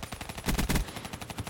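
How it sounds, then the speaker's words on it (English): Rapid automatic gunfire in the video game Call of Duty Black Ops 3, a tight rhythmic burst of shots, close and punchy, peaking midway through the short clip. "Start shooting by aiming down sights"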